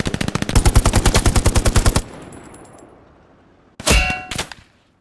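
Gunfire in the PS5 World War II shooter Hell Let Loose: a rapid, loud, close automatic burst with metallic clangs and a ringing tail. A brief pause follows, then a couple of sharp shots close by.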